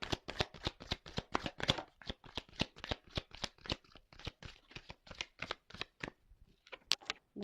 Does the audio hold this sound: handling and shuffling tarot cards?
yes